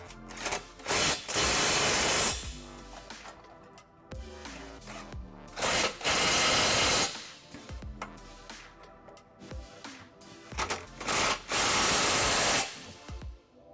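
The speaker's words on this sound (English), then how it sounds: "I'm gonna go ahead and tighten each bolt with a 18 millimeter socket." Bolts on a trailer hitch for a 2021 Chevrolet Equinox are driven tight with an 18 mm socket, loud repeated bursts of power-tool whirring separated by short pauses and clicking.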